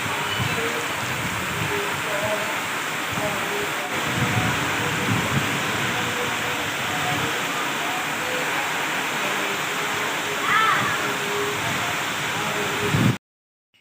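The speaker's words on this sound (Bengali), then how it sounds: "বৃষ্টির আওয়াজটা শুনলে তোমরা বুঝতে পারবে কী পরিমাণে বৃষ্টি পড়ছে" A sudden downpour of heavy rain makes a dense, steady roar that fills the air close by for the whole stretch, with no break in its intensity until it cuts off at the very end.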